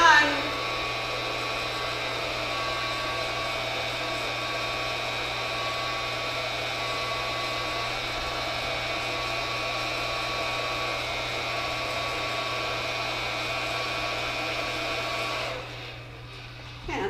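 Coffee roaster machine running with a steady electric hum and whine for most of the clip, then cutting off near the end as it stops.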